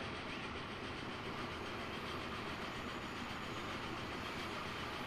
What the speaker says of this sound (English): Yeah, that's the other train.